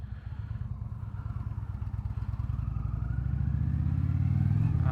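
An Indian Chieftain Dark Horse motorcycle with an aftermarket exhaust idles with a deep, lumpy burble, then revs and swells louder toward the end, close and unbroken.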